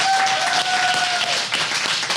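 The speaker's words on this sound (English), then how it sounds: "Let's stand up and give him applause" An audience at a real estate seminar claps together in a dense, steady burst of applause that fills the short span without any voices.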